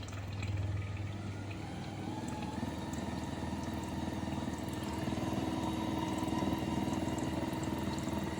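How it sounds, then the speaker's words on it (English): A Xiaomi C101 robot vacuum's self-cleaning station washing its mop, giving a steady, fairly quiet pumping and churning water sound that holds evenly throughout, with no voices. "So it's now going to wash the mop behind."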